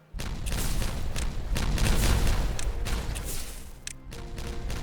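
Dynamite detonation in a beaver colony-building game, a burst of heavy booms and crackling blasts rolling together for several seconds, loud and rumbling before tapering off.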